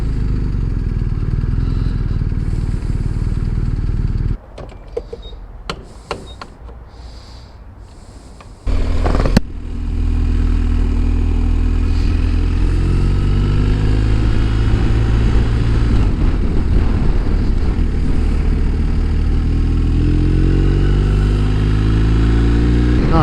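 Steady engine drone and heavy wind rush at over 70 mph on a motorcycle, interrupted briefly by choppier buffeting, then the motorcycle engine rising in pitch as it accelerates.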